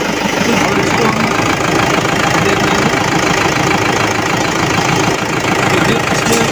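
The engine of a used car idles with a loud, close, continuous rumble that holds steady without change throughout.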